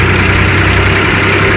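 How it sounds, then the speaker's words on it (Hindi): A tractor engine labors steadily while climbing a slope in a village, a loud, close, continuous low rumble with an even throbbing drone and no pauses. "चढ़ाई पे यदि ट्रैक्टर का प्रेशर नहीं बना है तो ये निश्चित है कि ट्रैक्टर बंद हो जाएगा"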